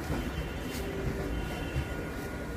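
A local train coming from the car shed pulls into platform 3 at Ranaghat Junction, giving a continuous low rumble of rolling wagons at moderate volume.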